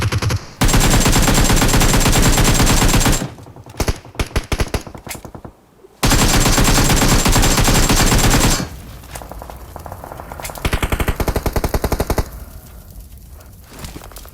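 Rapid automatic gunfire rattles loudly in a battle royale video game in long sustained bursts, then drops to quieter sporadic shots and softer game sounds, with no voices.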